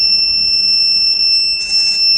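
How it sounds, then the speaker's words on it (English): An automated waste segregator lets out a loud, continuous high electronic buzz on detecting a metal object, holding a steady tone throughout. "we can hear the buzzer sound coming out from that"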